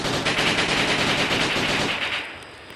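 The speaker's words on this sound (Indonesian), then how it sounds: "Senjata selanjutnya adalah Glock 18 nih." A Glock 18 pistol in the Gorebox video game fires fully automatic, a loud, dense, rapid stream of shots lasting over two seconds before tapering off, with no talking.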